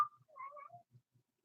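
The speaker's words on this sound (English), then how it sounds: "He makes that meow when he thinks he's doing something bad" A cat perched on top of a computer gives a short, quiet meow in a few soft rising and falling notes, heard alone in a silent room with faint low thumps around it.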